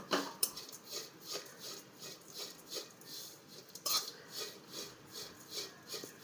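Grated coconut is stirred and roasted in a pan for coconut laddoos, a spatula scraping the pan in close, steady rasping strokes that repeat at a brisk rhythm, with a couple of sharper clinks.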